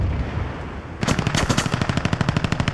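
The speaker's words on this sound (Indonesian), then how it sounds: "sayap pesawat Franta juga kena tembak dari belakang" A rapid burst of machine-gun fire hitting a plane in a film kicks in after a quiet second, steady rattling shots, loud and close.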